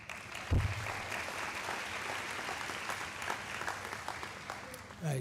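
Audience at a high school athletic awards ceremony claps steadily but faintly, a soft patter of hands lasting several seconds with a short thump near the start.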